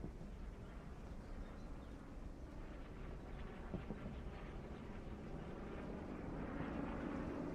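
A recon plane from a multiplayer war video game drones steadily overhead, a broad continuous engine roar that holds throughout and swells slightly toward the end, with no talk over it.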